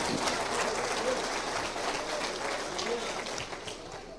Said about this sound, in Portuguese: Aplausos para o Senhor.